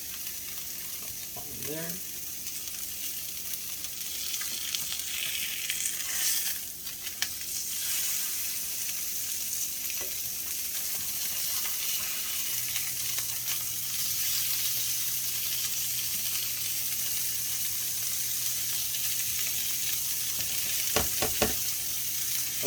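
Soy sauce glazed salmon sizzles steadily in a hot pan as it is flipped, a continuous close frying crackle with scraping spatula movements and a brief spoken remark.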